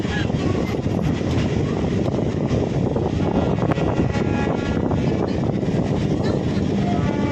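A local train pulls into Cuttack Junction with a loud, steady rumble of wheels and carriages, close by and filling the whole stretch without pause.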